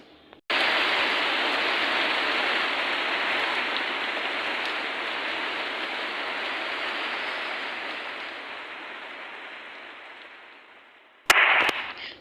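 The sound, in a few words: rain falling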